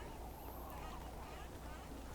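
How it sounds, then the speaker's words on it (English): Seals call across a virtual arctic region in Second Life, their faint honking barks blending into a steady, hissing ambient wash with no clear foreground. "We can also hear the seals as well."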